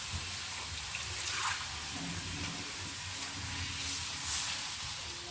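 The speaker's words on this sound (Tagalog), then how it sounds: "lagyan ng kunting tubig" Water poured into a pot of crabs seasoned with vinegar and salt, a soft continuous splashing and hiss at close range, steady throughout with a slight swell near the end.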